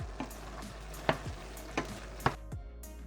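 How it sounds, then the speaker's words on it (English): Garlic powder and ground cumin being stirred into a frying pan mixture for eggplant lasagna, a low steady sizzle punctuated by four sharp scraping strokes of a utensil. "Give that all a good mix and incorporate those wonderful spices."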